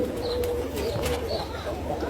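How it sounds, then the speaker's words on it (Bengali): Pigeons of several breeds, including local Giribaz and Girigel, red checker and racers, coo softly in a loft, low rounded calls under faint background chirps. "এই যে কবুতরগুলো দেখতে পাচ্ছেন এখানে বিভিন্ন জাতের কবুতর আছে"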